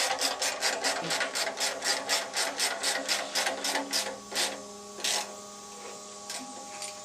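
Bolts on a small engine being snugged up with a ratchet, heard as a fast, steady run of close clicks that slows into a few separate louder clicks and scrapes near the end, with no speech.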